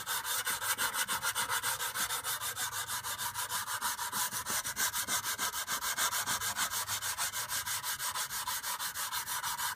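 A metal blade is hand sanded with sandpaper in fast, even up-and-down strokes, a loud close rasping scrape repeating steadily throughout without any talking.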